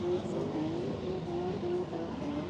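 A Volvo drift car at a drift event, its engine droning and revving in a steady whine with slight pitch rises, heard at moderate distance.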